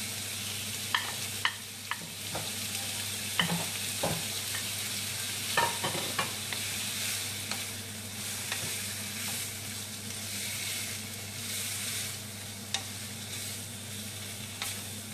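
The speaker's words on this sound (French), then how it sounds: "on va mélanger le tout, un petit peu. On va rajouter les oignons." Bacon lardons and onions sizzle steadily in a pan while a spoon stirs them, with occasional scraping clicks and taps against the metal over a continuous close frying hiss, no voices.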